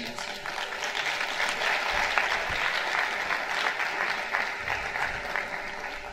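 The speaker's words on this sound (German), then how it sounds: "einen riesen Applaus" An audience at the opening of the 11th Oldenburger Münsterland film festival breaks into steady, dense applause, a sustained wash of clapping that holds at an even level for the full six seconds with no talk over it.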